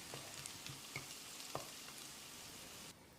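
Coconut pieces frying in oil for spicy Pallipalayam mutton kulambu give a soft, steady sizzle with a few light stirring scrapes, fairly faint and with no talk.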